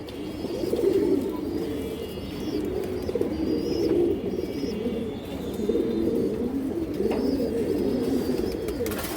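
Pigeons coo steadily in low, throaty rolling phrases, close by and continuous, with occasional faint chirps above them.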